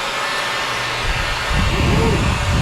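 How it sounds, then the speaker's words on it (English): A leaf blower roars close by as it blasts cinnamon sugar off a kitchen counter, a loud broadband whoosh that surges louder partway through. "can I just hit the counter with the leaf blower again?"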